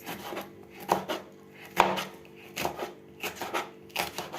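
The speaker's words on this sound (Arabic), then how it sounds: "انت بتجيبي كمية البصل اللي انت عايزاها بتقطعها زي ما انا عاملاها كده" A knife slices onions on a cutting board for a fish dish, making close, irregular taps and chops in small clusters, with one sharper knock partway through and no voices.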